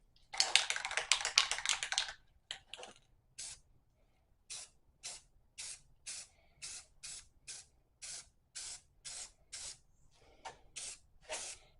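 Rust-Oleum 2X spray paint with primer hisses onto a drum pedal during a restoration, first in a long two-second burst, then in a steady run of about fifteen short, evenly spaced spurts.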